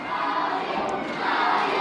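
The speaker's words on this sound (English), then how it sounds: "This capacity crowd here at St. Michael's getting behind Money Green." A capacity wrestling crowd at St. Michael's roars steadily in support of a veteran wrestler, a dense, sustained wash of cheering and shouting that swells slightly toward the end.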